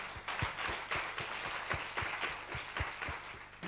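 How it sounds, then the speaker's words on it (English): An audience at a European higher-education event applauds, steady continuous clapping with some individual claps standing out, moderately distant and without speech. "it's worth an applause for Erasmus."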